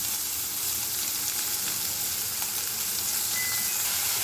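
Onions sautéing in hot oil for thuri masala, a dense even sizzle and hiss close by, constant for the whole stretch with no talk.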